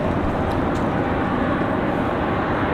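A Lufthansa Boeing 787 Dreamliner arrives at Raleigh-Durham airport, heard as a continuous, loud, broadband jet roar that stays steady for the whole stretch.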